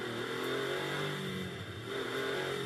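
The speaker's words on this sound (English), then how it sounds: "You hear what I mean about the great noise these cars make." Porsche Cayman race cars in a Sprint Challenge GB round at Brands Hatch GP circuit, engines droning steadily under throttle on track, a layered mechanical growl at middle distance that dips briefly and then builds again.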